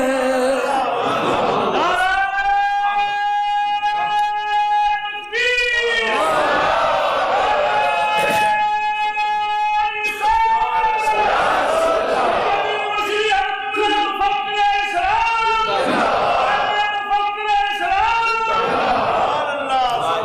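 A large audience at a religious gathering chants slogans loudly in unison, rhythmic repeated shouted phrases with raised voices rising and falling over about twenty seconds, filling the space.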